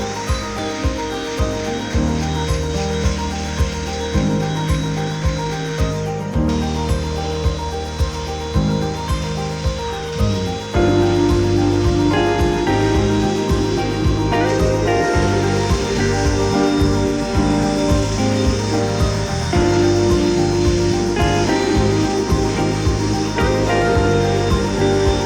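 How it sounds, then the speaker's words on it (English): Hand sanding of a wooden cookie slab tabletop with sandpaper, steady rhythmic rasping strokes repeating close up throughout, growing denser and louder partway through, with no talk. "Let's start sanding."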